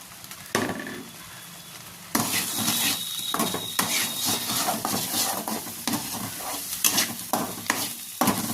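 Spiced gravy with dry spices sizzles in a kadai for kadai paneer while a spoon scrapes and stirs it continuously. The sound is quiet at first and grows louder and busier after a couple of seconds.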